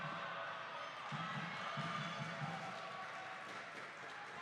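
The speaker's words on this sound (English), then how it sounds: "The crowd's getting bigger here, the atmosphere is building." A large crowd murmurs and applauds steadily through a rally at a university varsity badminton match at Roses 2025, with a continuous wash of cheering and faint commentary voices underneath.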